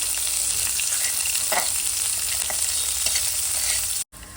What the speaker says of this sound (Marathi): यामध्ये आपण कांदा ऍड करतोय आता ह्या सगळ्यांसोबत शेंगदाणे पण व्यवस्थित भाजत घालतो